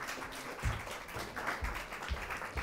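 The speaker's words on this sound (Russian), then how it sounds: "Ваши аплодисменты" An audience at a debate final claps together in a short, even patter with a few louder taps, close and steady throughout without speech.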